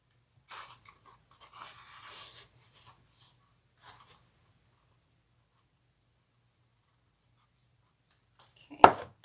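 Faint, scattered barking from dogs some distance away comes in short bursts, then quiet, ending with one sudden loud knock close by.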